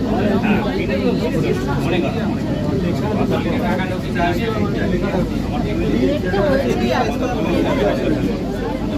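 Dense babble of a crowded passenger throng on the platform of Kolkata's underwater metro beneath the Ganges, a steady unbroken hubbub of many voices with low rumbling machinery underneath.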